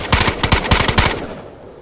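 Rapid bursts of automatic gunfire in the survival game DayZ, set on the Livonia map, about ten close, loud shots in quick succession that stop abruptly and leave a fading tail.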